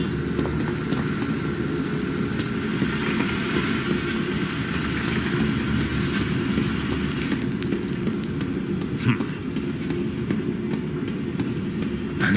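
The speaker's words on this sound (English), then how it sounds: "Now drag the trolley to the gates." A gadget trolley in the video game Zoochosis rolls along rails with a steady, continuous low rumble and mechanical clatter, a sharp click near the end, no voices.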